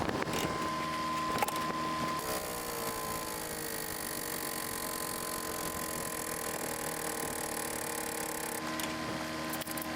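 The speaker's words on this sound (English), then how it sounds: "So once you have the front of your house jacked up off the hitch" A trailer jack is cranked to lift the front of a camper off the hitch, giving a continuous close mechanical grinding and whirring with faint ratchet-like clicks throughout.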